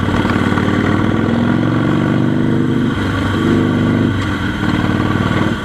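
A Harley Davidson or Royal Enfield Continental GT 650 motorcycle accelerates on a road, its engine roaring loud and close with a rising pitch that dips briefly between gear changes, then pulls again.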